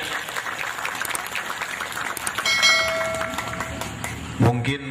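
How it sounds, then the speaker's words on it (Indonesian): Applause from a crowd at an Islamic dhikr and manaqib gathering in Tulung, Asahan, Sumatra, a steady clapping that swells midway and ends with a short burst of loud voices. "pengajian kok ada tepuk tangan kayak di anak TK"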